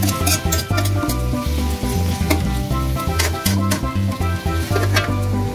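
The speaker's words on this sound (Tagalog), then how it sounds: "Haluin at lutuin maigi ito." Dinuguan, a pork offal stew, sizzles loudly in a pan as it is stirred, with steady frying crackle and rhythmic scraping strokes up close.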